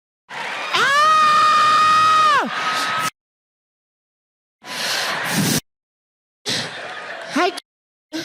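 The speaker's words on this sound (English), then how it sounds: "Listen to the women screaming" Women in a comedy show audience scream and whoop in loud, high-pitched bursts, one long sustained shriek followed by shorter crowd outbursts separated by sudden silences.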